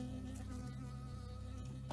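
A bee buzzing in the video game Firewatch, a steady low insect drone held throughout, faint and continuous with no talk.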